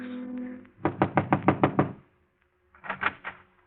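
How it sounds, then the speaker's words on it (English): Knuckles rap on an office door marked Manager at a swank cafe, first a quick run of about seven close knocks, then a pause and a second, shorter burst of knocking, with no talking. "He hesitates a moment, glances at the two men beside him, and knocks."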